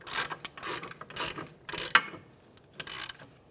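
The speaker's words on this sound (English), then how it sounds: "Come in a crisscross pattern and start tightening these up until we feel good resistance." Ratchet clicking in short bursts while hub assembly bolts on a 2011-2017 Honda Odyssey rear wheel are tightened in a crisscross pattern; about six separate bursts of close metallic ratcheting, no talk.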